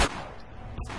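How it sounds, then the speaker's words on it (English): Gang gunfire in GTA San Andreas opens with a loud, sharp shot, followed by a rumbling tail and a second burst near the end, heard close and without talk. "Bro, I hear some gang shooting."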